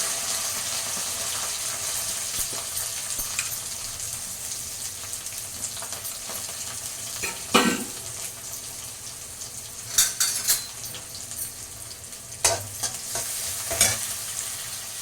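Onions and curry leaves fry in a pan with a steady sizzle, broken by several sharp scrapes and knocks of a spoon stirring, most of them in the second half. No one speaks.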